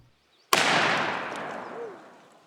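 A single loud .50 BMG rifle shot fired through a longer barrel with a simple cone muzzle: sharp crack after brief silence, then a long rolling outdoor decay lasting about two seconds.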